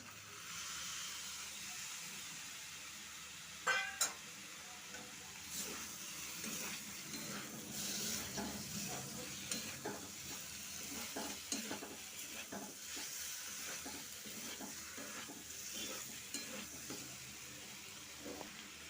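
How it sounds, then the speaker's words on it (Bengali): Fried pointed gourd pieces are stirred into a sizzling spice masala, with a faint, steady hiss and scattered scraping and clinking from the spatula. "মশলাটা আমার কষানো হয়ে গেছে আমি এবারে ভেজে রাখা পটলটা দিয়ে দিচ্ছি"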